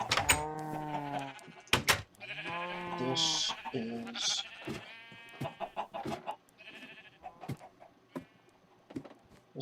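Video game sheep bleating several times in close succession in a farm scene with cows and chickens, loud and close, with a voice talking briefly over the calls.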